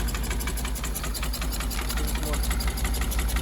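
A 1977 GMC 6500 truck's 366 big block V8 idles cold with choke on, a steady, loud, close rumble with an even rapid pulse that holds throughout.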